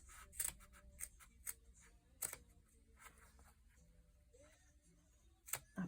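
Scissors snip through fabric for a small zippered willow wallet and phone case, a few sharp separate cuts spread over several seconds, faint and close with quiet room tone between them.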